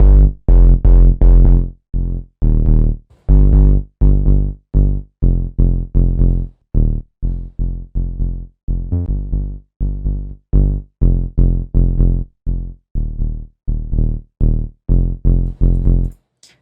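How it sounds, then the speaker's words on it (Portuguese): Sub bass synth line run through a distortion plugin in electronic music production: a steady stream of loud, gritty, buzzing notes pulses in a regular rhythm, with no talking. "A primeira coisa que eu vou inserir é um efeito de distorção, para deixar o som um pouco mais distorcido"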